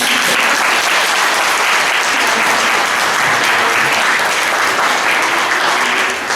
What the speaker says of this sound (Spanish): Un aplauso grande para ella.